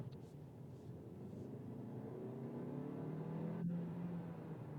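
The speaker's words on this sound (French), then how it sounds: "C'était de 30 à 60, une première accélération au volant de la Kia K4." A 2026 Kia K4 in sport mode accelerates from 30 to 60 km/h, its engine tone rising smoothly and steadily over a constant road rumble heard from inside the cabin.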